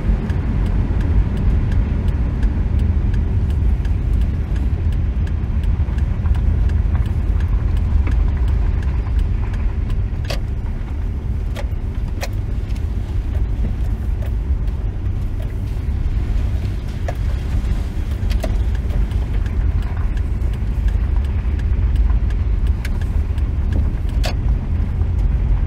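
A car drives through the town of Anadyr on a cold evening, its engine and tyre rumble forming a steady, close drone with a few faint clicks and no talking.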